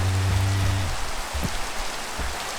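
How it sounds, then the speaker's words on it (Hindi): Steady hiss of rain falling in the Minecraft video game, a dense continuous patter with a low droning tone fading out in the first second and a few faint soft thuds. "बारिश का मौसम आ गया है माइनक्राफ्ट के वर्ल्ड में"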